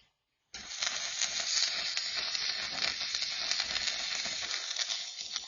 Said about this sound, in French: Et un autre petit point de soudure ici